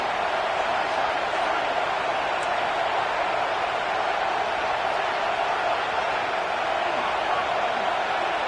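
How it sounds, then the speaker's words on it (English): A stadium crowd roars in College Football 26, a dense, steady wall of cheering and noise that holds at high volume without a break, with no distinct voices standing out. "This crowd bringing the energy and noise early."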